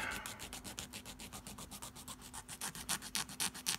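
Rhythmic scratchy rubbing of a coarse sanding stick, quick back-and-forth strokes growing louder and sharper toward the end, close and alone.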